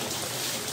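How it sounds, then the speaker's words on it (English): Steady rain falls outdoors during cooking, a dense continuous hiss that fills the brief moment with no break. "It's raining here."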